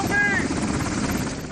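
A military medevac helicopter near Kandahar, Afghanistan, whirs close by with a steady rotor and engine drone that fills the short clip. Voices talk over the noise.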